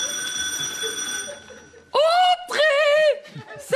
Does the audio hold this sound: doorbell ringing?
yes